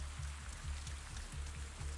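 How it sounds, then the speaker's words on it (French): Rain falls steadily in the video game Avatar: Frontiers of Pandora, a soft continuous hiss of drops on surfaces, fairly quiet, alone without talk. "Ça, c'est vraiment, vraiment un temps de pluie."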